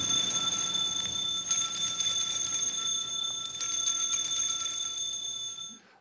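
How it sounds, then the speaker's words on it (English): Bright, sustained ringing of a cluster of small bells at the epiclesis during Mass in a parish church, a shimmering metallic peal that carries steadily for several seconds before stopping. "Now it's a custom in many parishes to ring bells at that time."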